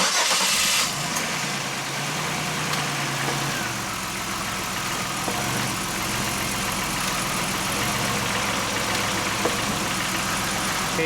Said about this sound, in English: I'm gonna fire it up there, Chris, and put it through the gears.